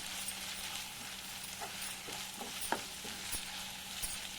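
Turmeric and mint leaves being stirred in a hot cooking pan, a soft steady sizzle with faint scraping clicks of the spoon scattered throughout.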